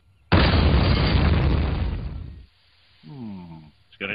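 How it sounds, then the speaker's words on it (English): Fireworks blow up inside a bedroom with a sudden loud blast and a roaring, crackling burst lasting about two seconds, followed by a short vocal cry. "It's gonna take a lot of fireworks to clean this place up."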